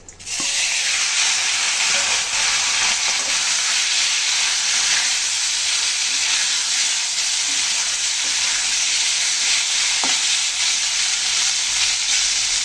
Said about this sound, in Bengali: মাছগুলো এভাবে নেড়ে ছেড়ে আমি ভেজে নেব।